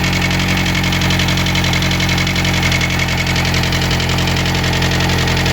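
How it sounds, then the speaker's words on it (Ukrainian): A car engine idles steadily with a low, rumbling drone and loud rhythmic knocking after a used cylinder head was fitted, loud and close, no voices. "О, вже хорошо, двигун запустився."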